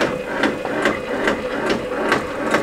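An embroidery machine stitches on toilet paper, a close, steady mechanical whir with regular rapid needle taps repeating about every half second, alone without talk.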